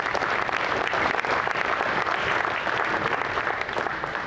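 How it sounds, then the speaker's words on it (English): An audience at an Iowa Great Lakes Fishing Club dinner night claps in a dense, sustained round of applause that fills the room evenly from start to finish. "how about a round of applause for those guys?"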